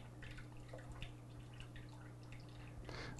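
Soap drops added one at a time to a glass of filtered water, with faint, soft drips and small splashes over a steady low hum, the sound quiet and close.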